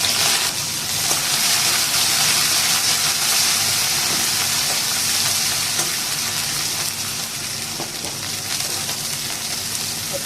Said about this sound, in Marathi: आपले लसूण कोथिंबीर तेलावरती परतून झाले।